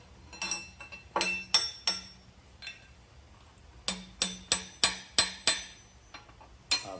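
Cylinder liners being hammered out of a Cummins NTC350 engine block: a series of sharp metallic knocks, a few spaced strikes and then a quick rhythmic run of hits, close and clear with no voices.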